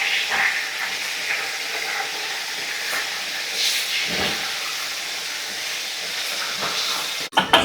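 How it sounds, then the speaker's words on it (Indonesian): A pot of water seasoned with tamarind, salt and MSG boils on the stove, giving off a faint, steady hiss of steam and bubbling that carries on evenly before a brief clatter at the end. "sudah mendidih, lanjut masukin ikannya"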